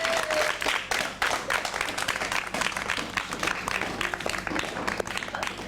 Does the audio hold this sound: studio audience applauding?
yes